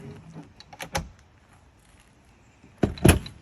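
An Aliner folding camper's door is worked shut, with a cluster of rattles and a solid thud, a quiet pause, then a second heavier knock and latch clatter, all close by.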